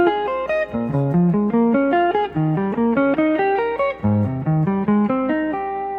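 Guitar arpeggios played over a chord progression, each starting from the root, run as a continuous stream of clear, evenly picked single notes moving through the changes, loud and close with no talking.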